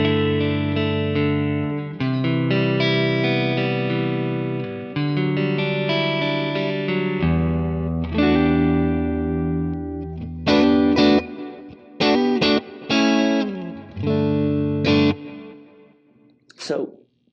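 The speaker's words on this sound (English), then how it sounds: "Let's go ahead and hear how the Lonestar sounds on the clean." Fender Stratocaster on the neck pickup played through a clean Lonestar amp model, sustained chords ringing out for several seconds, then shorter choppy strummed stabs and a final sliding note, no voices.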